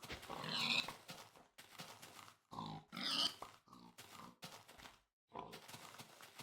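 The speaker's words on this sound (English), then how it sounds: "This is an insane amount of pigs." A crowd of pigs oinks in the early Infdev version of the video game Minecraft, with bursts of grunts in quick clusters separated by short gaps.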